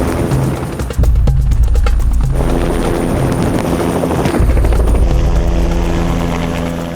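A helicopter touches down in cold, windy snowy mountains, its rotor and engine roaring loud and close with a steady thumping drone that dips briefly and then holds.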